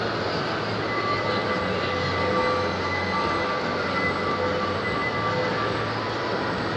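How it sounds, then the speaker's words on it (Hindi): A kids' mini train runs inside Dubai Mall, giving a steady, continuous rolling rumble with a faint whine against busy indoor mall ambience for the whole stretch, with no talking. "ये बच्चों के लिए, किड्स के लिए जो है ये वो ट्रेन चल रही है दुबई मॉल के अंदर"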